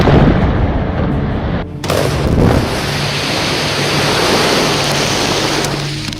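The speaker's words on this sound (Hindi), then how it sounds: "लेकिन तभी होता है जोरदार धमाका।" A sudden loud factory explosion on CCTV cuts through steady background noise, followed by a heavy rumbling roar that lingers for several seconds.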